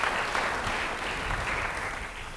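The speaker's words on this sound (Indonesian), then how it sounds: "Yang setuju beri tepuk tangan bagi dia." Church congregation applauding during an Indonesian sermon: dense, continuous clapping from a crowd in a large room, steady and moderately loud for a couple of seconds.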